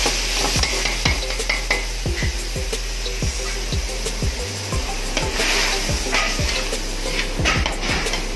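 Canned mushrooms go into a pan of tender beef, bringing a steady sizzle and fry punctuated by repeated scraping, stirring knocks of a utensil against the pan, close and loud with no talk.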